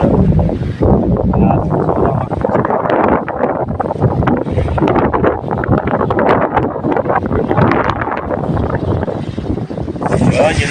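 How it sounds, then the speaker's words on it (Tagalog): Strong northeast monsoon (amihan) wind at sea buffets the microphone in a steady, loud roar, with a boat and open water beneath and speech mixed in throughout. "At ang hangin ay patuloy pa rin yung amihan."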